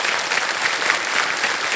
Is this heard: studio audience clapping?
yes